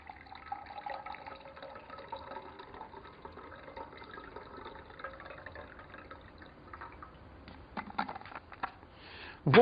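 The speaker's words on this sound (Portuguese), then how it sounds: "E pegamos a água gelada e colocamos no outro copo." Cold water is poured from a thermos flask into a cup, a soft steady trickle and splash that grows louder toward the end, with no talking.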